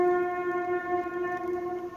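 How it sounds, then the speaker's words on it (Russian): A loud, sustained train horn sounds for about two seconds during a snowstorm, its steady chord holding throughout with slight wavering in volume. "Поезд."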